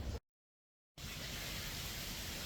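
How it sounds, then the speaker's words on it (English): Steady rain from a storm hisses as a broad, even wash of noise, briefly cut by a near-second gap of total silence before resuming at constant level. "It's raining, it's storming."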